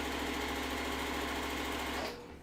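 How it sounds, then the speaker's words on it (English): A sewing machine runs steadily at a fast, even pace while stitching pieced quilt blocks, loud and close, then stops abruptly near the end. "we're going to sew the other side"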